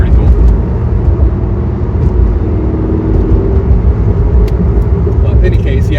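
Corvette C5 Z06 driving at night, its engine a steady, loud low rumble throughout with a continuous drone, some road and wind noise layered over it.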